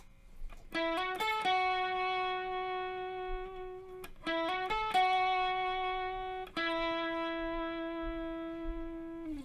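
An electric guitar plays a slow riff of a few plucked notes, each sustained and ringing out, with the phrase repeated three times.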